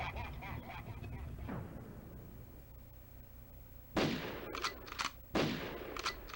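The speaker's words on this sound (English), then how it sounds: "I guess it was 2 golden gunshots for Baron Sambi there." Gunfire in GoldenEye: two loud, sharp shots with ringing tails late in the stretch, preceded by rumbling game noise and a quieter lull.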